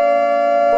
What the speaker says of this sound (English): Can we get a siren of meme attack?